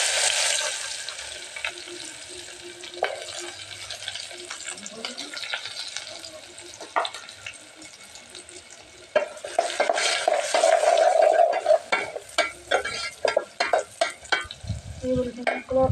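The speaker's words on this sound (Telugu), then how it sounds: "ఇప్పుడు ఇందులోకి ఉల్లిపాయ ముక్కలు, పచ్చిమిర్చి ముక్కలు అయితే వేసుకొని మళ్ళీ ఫ్రై చేసుకోవాలి" Onion and green chili pieces fry with brinjal in a pan: a soft sizzle with occasional clinks, then louder stirring and scraping with running water in the second half, and a voice heard briefly.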